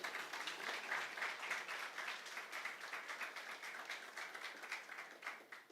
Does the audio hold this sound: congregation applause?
yes